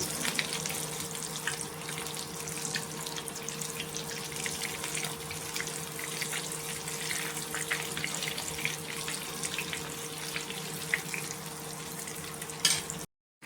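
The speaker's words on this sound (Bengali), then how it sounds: "ভালো করে একটু মুচমুচে করে ভেজে নেব।" A steady, dense sizzle of cabbage pakoras frying in hot oil, crackling continuously at close range with a faint constant hum underneath, ending abruptly.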